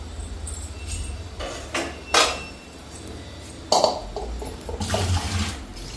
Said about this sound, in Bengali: তো এটা জলের মধ্যে উঠায় ধুয়া যায়, তাহলে একটু টাটকা থাকবো।